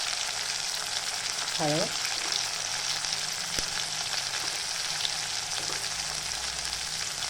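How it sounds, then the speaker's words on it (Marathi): Spices sizzle steadily in hot oil in a pan while a spicy sprouted moth bean curry is cooked, a continuous close frying hiss with a brief voice partway through. "ते पण तेलावर चांगल्यापैकी फ्राय करून घेते"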